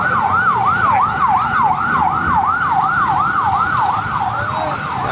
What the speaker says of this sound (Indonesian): Ada ambulan.